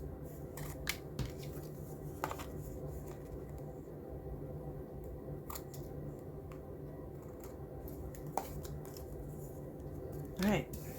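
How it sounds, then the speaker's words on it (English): Scissors trimming the edges off a sticker page for a unicorn and rainbow journal, a few quiet, scattered snips spread across the stretch, close by and faint against a low background hum. "I need to cut the edges off"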